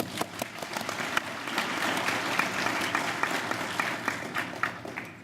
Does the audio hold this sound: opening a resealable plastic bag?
no